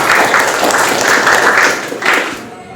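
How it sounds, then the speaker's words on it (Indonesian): Classroom applause for a student from a group of schoolchildren: a short burst of loud, close clapping that pulses unevenly and fades out after a few seconds. "Tepuk tangan untuk Levi."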